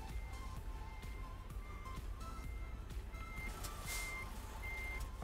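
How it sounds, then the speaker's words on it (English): A truck in American Truck Simulator starts up and backs away, its reversing beeper repeating steadily over a constant low engine rumble and faint mechanical clatter. "Gotta start the truck"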